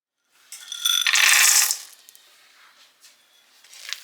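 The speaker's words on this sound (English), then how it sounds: "we're going to stir in 3¼ cups of, we're going to use semi-sweet chocolate chips" Semi-sweet chocolate chips clatter and rattle loudly against a bowl for about a second as they are stirred into soft chocolate chip cookie dough, then fade to quieter scraping and light clicks.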